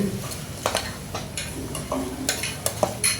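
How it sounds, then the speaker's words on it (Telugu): Turmeric, salt, chili powder and ginger-garlic paste being stirred into a chicken biryani base, with brisk scraping strokes and light clinks of a spoon on the pot over a faint sizzle, close by. "కొద్దిగా పసుపు, ఉప్పు, కారం, అల్లం వెల్లుల్లి పేస్ట్ వేసి బాగా కలుపుకోవాలండి"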